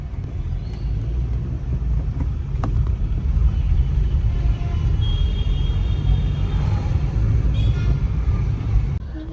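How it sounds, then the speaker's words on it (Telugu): Road traffic in Visakhapatnam, a steady broadband rumble of passing vehicles and engines with no clear gaps, heard from nearby at a constant moderate loudness. "వైజాగ్లో ట్రాఫిక్ చాలా ఎక్కువైపోయింది."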